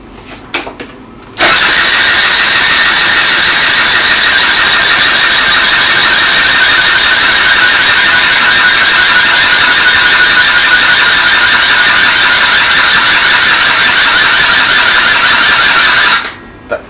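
A Suzuki ZZ scooter engine, just fitted with a new piston, catches after brief starter cranking and runs at a loud, steady, high-pitched buzz for about fifteen seconds before cutting off, with no talk over it.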